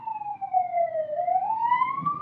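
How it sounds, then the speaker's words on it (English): An emergency siren wails steadily outside, its pitch sliding down and then back up as it passes at a moderate distance, heard alone without talk. "I'm gonna wait for that siren to pass."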